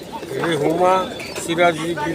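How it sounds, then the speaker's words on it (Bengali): Pigeons coo in a crowded cage at a weekly pigeon market in Fatullah, Narayanganj, with soft repeated calls close by under steady market chatter and voices. "এদিক দেখছেন খাসা ভর্তি অনেকগুলা কবুতর"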